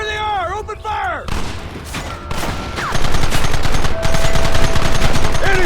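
Sustained rapid gunfire in a Red Dead Redemption shootout, loud and dense bursts of overlapping shots building after a shouted command, with voices yelling over the continuous fusillade.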